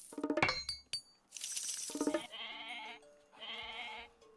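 Sheep in the strategy game Age of Mythology: Retold bleat twice in short, wavering cries, following sharp metallic clinks and a brief whooshing burst; no one speaks.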